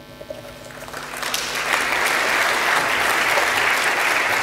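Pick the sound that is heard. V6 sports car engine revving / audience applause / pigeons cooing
audience applause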